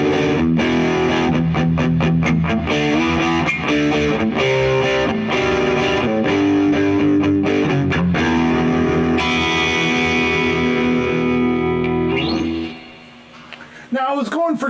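An electric guitar runs through two amps at once, playing loud, distorted, jangly classic-rock chords and riffs continuously before ringing out and fading near the end.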